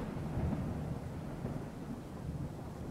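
Thunder in the video game Fargone: a low, continuous rumbling roar with steady rain-like hiss, moderately quiet and unbroken throughout, no talking.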